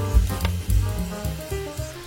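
Sliced onion sautéing with chili sauce in a pan, a close, steady sizzle with soft stirring scrapes and low thumps throughout, set against gentle background music.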